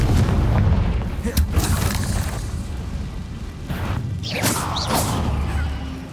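Repeated Confringo blasting spell explosions in the Hogwarts Legacy video game, with heavy booms and sharp crackling bursts layered over dense battle noise, loud and close throughout, with spell shouts mixed in.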